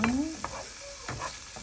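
Stirring and mixing ingredients for a bitter gourd (ampalaya) dish in a pan, with a short scrape and light sizzle, then a second round of mixing motions, close and moderately loud.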